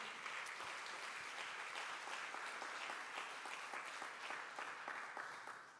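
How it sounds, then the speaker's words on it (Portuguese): Congregation applause during a church celebration service, steady dense clapping filling the room for about six seconds before tapering slightly at the end. "Quantos podem dar uma salva de palmas ao Senhor?"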